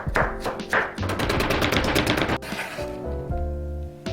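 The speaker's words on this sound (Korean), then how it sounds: "양파 반 개는 잘게 다져주세요" A knife chops onion and carrot finely on a cutting board for Korean holiday side dishes, a fast run of sharp rhythmic taps that stops abruptly and gives way to light background music.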